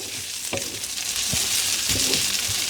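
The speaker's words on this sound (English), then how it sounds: "what's left is the moisture that's now sort of cooking out of the onion and almost frying" Onions frying in a pan for French onion soup, a steady broadband sizzle with a few soft stirring knocks, close and continuous with no talk.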